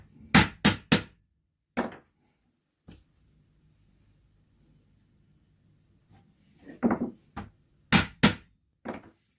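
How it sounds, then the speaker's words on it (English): Hammer blows punching lacing holes, loud close sharp strikes in quick groups of two or three separated by quiet pauses, with faint handling noise in between. "Sorry if this is getting kind of loud though with the hammering"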